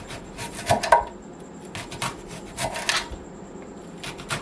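Leeks being chopped with a knife for potato leek soup, giving a few irregular cutting thuds and rustles, quiet and close, with no voices.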